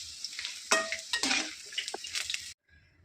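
Sun-dried vadam fry in hot oil with a busy, crackling sizzle punctuated by clinks of a metal utensil against the pan, then cut off abruptly into near silence.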